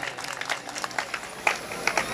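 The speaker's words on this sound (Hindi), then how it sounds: "आपकी तालियां खामोश न रहें" An audience at a jawabi kirtan gathering claps to honour Neelam Vishwakarma, giving a faint, irregular spatter of individual hand claps with voices talking underneath.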